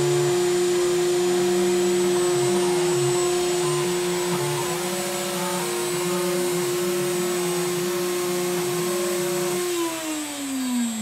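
A CNC router spindle runs a Mach3 test program on a CRP4848 router build, giving a steady, loud motor whine with shifting stepped tones from the axis motion. The pitch drops near the end as it winds down, and no one speaks.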